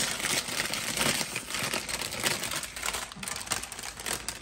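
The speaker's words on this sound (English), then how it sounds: "And a bag of oyster crackers. In they go." Bag of oyster crackers poured into a bowl for Chex mix, giving a steady rustling, crinkling patter of small dry crackers tumbling out for several seconds.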